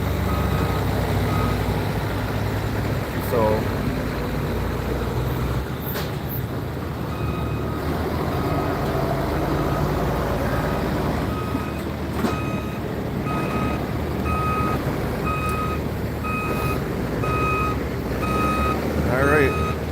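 At a Western Wisconsin truck pulling event, a truck's reversing alarm beeps in a repeated rhythmic series over diesel engine rumble and crowd noise, with an announcer talking throughout.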